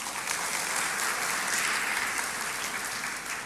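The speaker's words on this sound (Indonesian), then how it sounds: "Masih tepuk tangan tuh Tuhan." A church congregation claps during a sermon, a dense, even burst of applause from many hands that fills the short stretch at steady volume.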